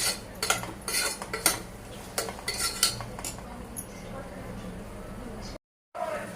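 Tomatoes are mixed with salt in a pan, a spoon clinking and scraping against the metal in quick bursts over a quiet background, a voice speaking nearby before a brief cut.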